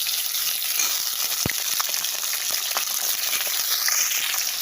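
Potatoes fry with black cumin seeds in hot oil, a steady close sizzle with scattered pops and the faint scrape of stirring, continuous throughout with no talking.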